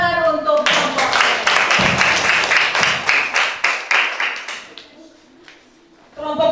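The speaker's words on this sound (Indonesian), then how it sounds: "Tepuk tangan untuk kelompok." A classroom of students claps for a group of classmates, a dense burst of hand claps lasting several seconds before fading out, with a teacher's voice briefly heard before and after.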